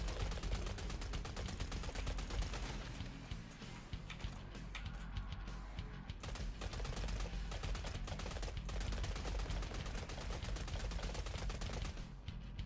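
Rapid gunfire from Killing Floor 3 crackles as dense continuous bursts of shots for over twelve seconds, loud and steady with brief gaps, no speech over it.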